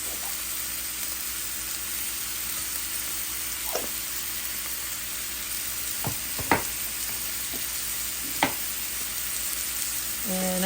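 Pork belly sizzles steadily in a hot pan after being salted, a continuous close crackle broken by a few sharp clicks and scrapes of stirring, with no talking.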